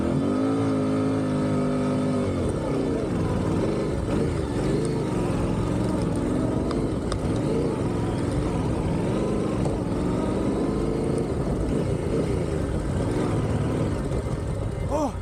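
A motorcycle engine drones loudly and continuously as it is pulled out of a river, its pitch rising and wavering as the throttle is opened, with a voice faintly underneath.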